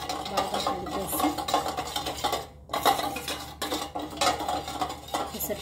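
A spoon stirring dry yeast into a pizza dough mix in a bowl gives repeated close scraping and clinking strokes in bursts, with a brief pause partway through.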